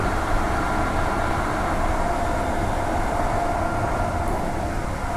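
Armadale Line train running through Perth at night, a steady, even rumble of rolling wheels and carriage noise with a faint tonal whine, continuous and fairly loud throughout.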